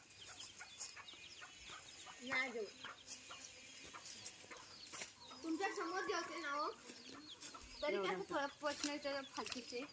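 Hens cluck in short repeated bursts close by, with chicks peeping faintly and people talking over a murmuring background at a home vegetable garden.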